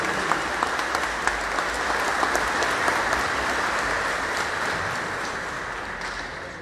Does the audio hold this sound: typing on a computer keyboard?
no